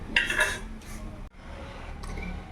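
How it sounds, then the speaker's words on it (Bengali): Two eggs are cracked into a bowl for egg fritters, with a few close, sharp clinks against the bowl near the start and another near the end over a low kitchen background. "দুটো ডিম ফাটিয়ে নিলাম।"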